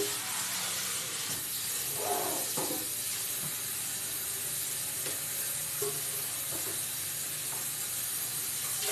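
Kitchen sink sprayer running, a continuous loud hissing spray with occasional clinks of dishes underneath, steady throughout and with no one talking.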